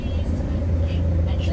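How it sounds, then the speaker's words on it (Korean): Engine of a 25-ton stainless-tank water tanker truck with automatic transmission and retarder, heard as a steady low diesel rumble at idle close by, with no clear separate cranking. "시동 걸어보겠습니다"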